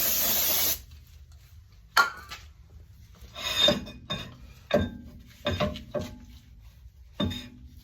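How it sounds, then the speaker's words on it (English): A short burst of aerosol cleaner sprayed on oily brake parts of a 2008 Mazda 3 at the start, followed by scattered metallic clinks and knocks of tools handling parts. "spray this to try to get any of the oil off there."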